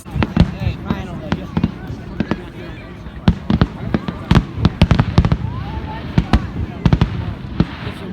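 Fireworks before a Fourth of July show crackle and pop from a distance, a dense run of sharp irregular bangs with some louder single booms, while people chat nearby.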